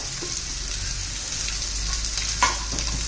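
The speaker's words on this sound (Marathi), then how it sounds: "पण चांगलं तेलात परतून घेऊ कांद्याबरोबर" Chopped bottle gourd frying in hot oil with browned onions, a constant close sizzle and crackle with a faint scrape of stirring.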